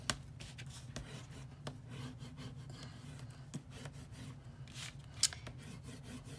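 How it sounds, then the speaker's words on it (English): Tape being burnished flat onto a book cover, a run of soft close rubbing and scraping strokes with a few sharper taps, quiet and without speech. "To burnish all of this really nice and good."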